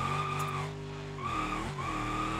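Tires squeal continuously as a car drifts in the BeamNG driving game, a sustained high-pitched screech with shifting pitch over a steady engine drone, alone with no talk.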